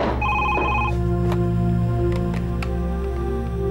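A telephone rings indoors in a Bengali TV serial scene. It gives a loud, sustained electronic ringtone with repeating tones over a steady low hum, close and with no talking during the ring.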